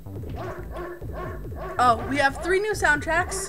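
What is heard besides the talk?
dog barking in a video game soundtrack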